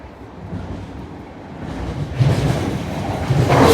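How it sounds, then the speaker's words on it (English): A 10-carriage train draws closer to the Lincoln High Street level crossing, its low rumble and hiss growing steadily louder over a few seconds. "Train 1 approaching with 10 carriages."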